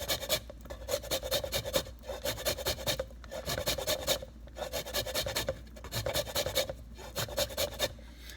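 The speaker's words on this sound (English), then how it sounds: "you gently rub that lime across your grater, getting all that rind off of there" Fresh lime rubbed over a kitchen grater to zest the rind, giving close, quiet rhythmic rasping strokes in repeated bursts with short gaps between them.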